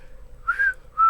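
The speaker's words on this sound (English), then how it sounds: "Oh, you can whistle." A person whistles two clear rising notes, the second cut off at the end, close and alone against a quiet low background hum.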